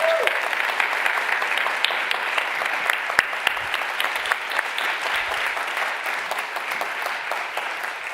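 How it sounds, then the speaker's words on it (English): Sustained audience applause for five finalists at a forum event, dense even clapping from a crowd that holds steady and slowly eases off. "Let's give them all a round of applause."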